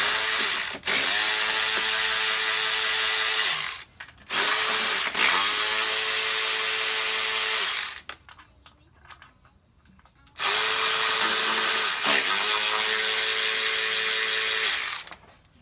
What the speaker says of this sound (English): bit driver ratchet just breezes these bolts right out